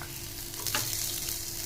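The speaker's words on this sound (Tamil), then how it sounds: "இப்போ இந்த வெங்காயமும் லேசாக செவந்து வர அளவுக்கு நல்லா வதக்கிக்கோங்க." Sliced onions sautéing in oil in a pan while cooking Andhra-style ivy gourd fry, a steady close sizzle with a brief stirring scrape.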